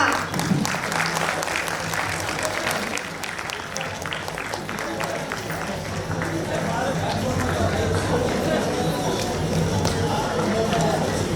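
An audience at a foundation's first annual day function applauds steadily for the full stretch, a dense, sustained clapping wash with crowd noise underneath.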